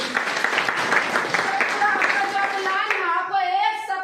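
Audience clapping at a motivational talk, a steady burst of hands applauding from a room of listeners, with a few voices calling out over it before the applause fades.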